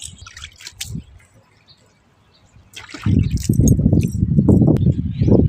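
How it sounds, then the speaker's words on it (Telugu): Hands are rubbed and washed under running water, a quiet start with faint drips giving way to a louder, steady splashing and scrubbing that continues to the end. "మంచిగా రుద్దు, ఇంకోసారి రుద్దు. మగ చేతులు దాకా కడగాలి"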